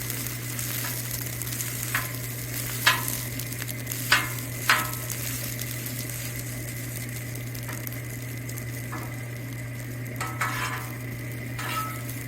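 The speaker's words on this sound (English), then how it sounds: "we pre-cook some rice and putting the rice down on the griddle" Rice frying on a Blackstone griddle for hibachi, a steady close sizzle with a low constant hum beneath and several sharp scrapes and clinks of a spatula stirring across the metal surface.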